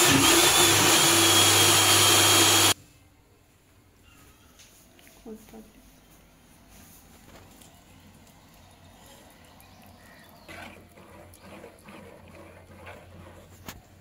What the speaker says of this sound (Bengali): এখন চালটা ব্লেন্ডার করব।